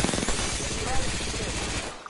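Dense, sustained bursts of automatic gunfire fill a video game firefight, loud and continuous with overlapping shots and no clear gaps.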